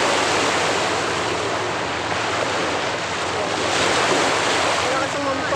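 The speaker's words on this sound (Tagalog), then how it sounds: "Tingnan guys kung paano magalit yung alon." Rough sea waves pounding the shore at East Coast beach at high tide, a loud constant roar of surf mixed with wind buffeting, swelling slightly toward the end.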